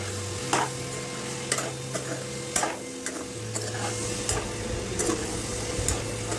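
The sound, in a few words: soya chunks being mixed and fried in a pan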